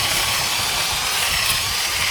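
A loud, continuous whirring drill fitted with a small brass brush grinds with a harsh abrasive rasp against a cement bird bath, steady throughout.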